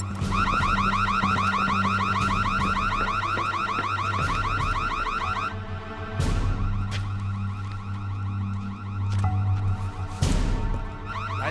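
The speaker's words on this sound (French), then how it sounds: "Quelqu'un a déclenché l'alarme, je pense." A car alarm blares in a rapid, repeating electronic pattern, then shifts to a different cycling tone partway through, loud and continuous.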